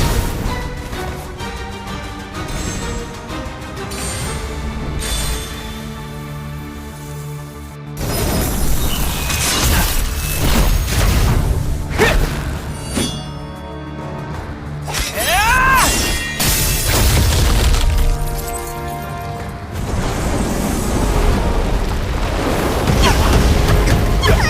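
Fireworks in the Rememento: White Shadow mobile game burst in a dense, loud barrage of booms, crackles and shattering bangs, layered over continuous game music and effects for the whole stretch.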